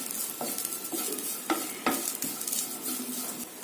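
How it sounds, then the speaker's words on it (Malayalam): A spoon scrapes and stirs coconut and onion in a hot pan off the flame, with a soft sizzle underneath and sharp intermittent clicks of utensil against metal, close up with no talking. "ഇനി ഫ്ലെയിം ഓഫ് ചെയ്തിട്ട് ശകലം നേരം കൂടെ ഒന്ന് ഇളക്കണം"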